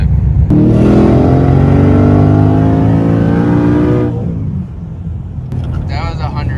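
A powerful 1,300-horsepower Mustang engine revs and accelerates hard, its roar rising steadily for a few seconds before cutting off, followed by a brief voice.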